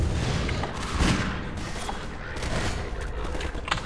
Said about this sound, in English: that's a grenade inside